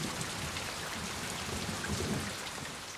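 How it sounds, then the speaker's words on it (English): Steady rain falling in a heavy downpour, a continuous even hiss of drops with a low rumble underneath, like a distant thunderstorm, and no voices. "then the rain came"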